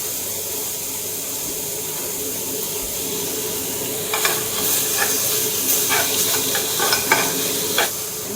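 Pork sizzling in a hot pan with noodles, a steady frying hiss throughout, joined midway by a run of clinking, scraping stirs from a utensil.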